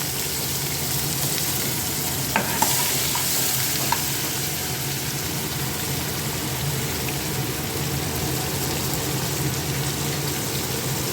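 Onion frying in butter with bay leaf and cloves for malai chicken, giving a dense, steady, close sizzle with a couple of faint clinks from stirring.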